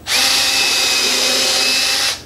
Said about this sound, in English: first things first, we're gonna drill